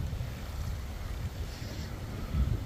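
Steady wind blowing outdoors beside a canal while bream fishing, a continuous low rumbling buffet with gusts swelling near the end and no voices.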